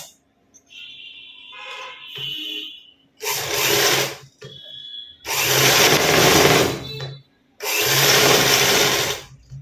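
A sewing machine stitches folding piping onto a high-neck blouse in loud, close bursts of steady whirring, stopping and starting several times with short quiet gaps.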